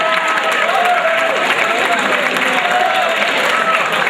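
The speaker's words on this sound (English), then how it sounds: "if you'd please stand, and we'll give you a round of applause" A large audience applauds students who improved their grades at a school awards assembly, with steady, dense clapping and crowd murmur filling the room throughout.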